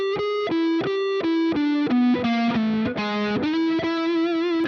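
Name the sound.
electric guitar playing a blues lick with distortion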